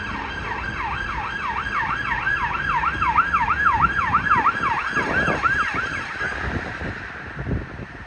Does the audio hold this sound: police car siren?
yes